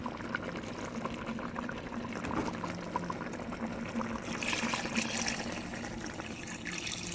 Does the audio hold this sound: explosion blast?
no